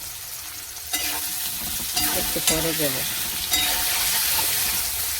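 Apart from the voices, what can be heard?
potatoes and water spinach frying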